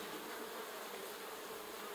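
Honeybees swarm around an open hive with an active brood nest in the second box, a dense, steady hum that stays close and even without any voices.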